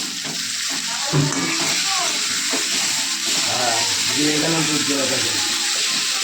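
Curry sautéing in a pan gives a steady close sizzle with scraping stir strokes, while voices talk over it throughout.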